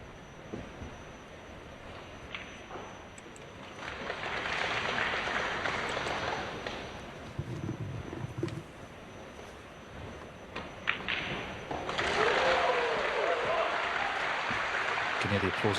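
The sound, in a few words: applause from the other snooker table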